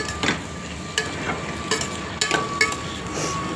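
Butter chicken with tomato being stirred in a pan over low flame, giving soft intermittent scraping strokes roughly every half second over a faint steady sizzle, close and moderate in level.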